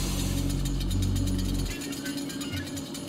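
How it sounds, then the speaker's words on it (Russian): Chainsaw in the video game DOOM, a loud rattling idle with rapid mechanical pulsing that drops to a lower, rougher chug partway through. "Да, понял я, что это бензопила."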